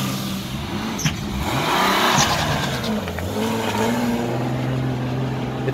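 A BMW E36 325i fitted with a DCT M3/M4 gearbox pulls away hard, its engine note climbing through rising revs and shifting, loud and near with brief tire noise.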